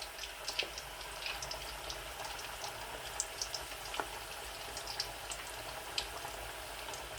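Mutton bombs frying in hot oil, a steady soft sizzle with scattered crackles and pops, close and fairly quiet with no voices.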